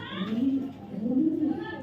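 Racer pigeons give low, rolling coos, two swelling calls in quick succession, close and clear, with a voice speaking faintly alongside.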